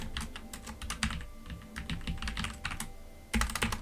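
Close, fast typing on a computer keyboard, dense clusters of crisp key clicks with brief gaps and a sharper burst of strokes near the end, no voices.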